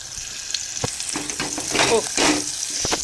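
Cumin and coriander seeds frying in a pan of hot oil for dal, giving a steady close sizzle broken by light scraping stirs.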